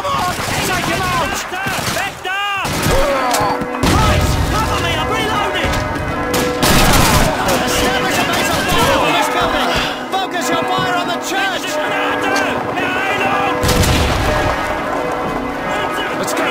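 Call of Duty 2 church assault with rapid rifle and machine-gun fire cracking near and far amid shouting soldiers, dense and loud for the whole stretch, with voices calling out over the battle.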